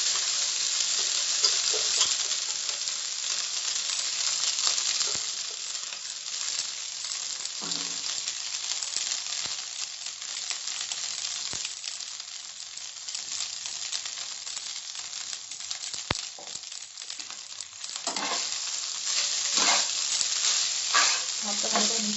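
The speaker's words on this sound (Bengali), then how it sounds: "ভাতটা ভালো করে মিশিয়ে নিচ্ছি মশলার সঙ্গে।" Cooked rice is stirred with spices in a frying pan for Karnataka-style curd rice, with a steady sizzle and scraping strokes from a spatula throughout. The sound is close and no one talks.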